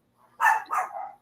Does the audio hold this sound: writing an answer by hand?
no